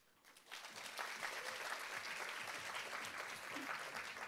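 Applause breaks out at the close of a tech conference talk, a dense crowd of clapping that rises within half a second and holds steady and full to the end.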